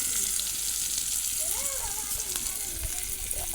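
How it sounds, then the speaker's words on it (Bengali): Chopped onion and crushed garlic fry in hot oil in a pan after fish, a steady loud sizzle running throughout while a person talks over it. "লাল লাল করে ভেজে নেব।"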